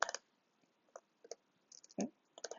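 Scattered keystrokes on a computer keyboard, quiet and close, tapping in short irregular bursts with pauses between them.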